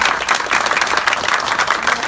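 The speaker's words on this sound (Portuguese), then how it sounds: "Uma salva de palmas, então," An audience at a jewelry hub in Belém gives a round of applause, with brisk, dense clapping that is loud and continuous.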